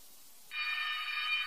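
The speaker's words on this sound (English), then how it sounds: "That's a fire alarm, sir." A hotel fire alarm cuts in abruptly and rings on as a steady, loud electronic tone over a quiet background.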